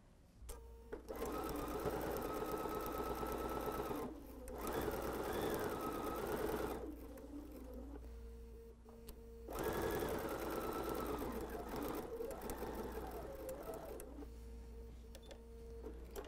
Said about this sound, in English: let's go sew that.